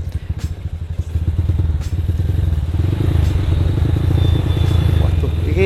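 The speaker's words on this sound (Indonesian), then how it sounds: "ini motor saya rodok berebet lur. Kayaknya karena habis kehujanan kemarin." A motorcycle engine that got soaked in rain the day before runs close by with uneven, stuttering pulses, then settles into a rougher, steady rumble.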